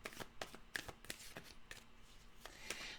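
Tarot cards are shuffled quickly in a rapid series of crisp riffling snaps, close and fairly quiet.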